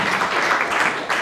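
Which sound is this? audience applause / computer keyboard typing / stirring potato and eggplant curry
audience applause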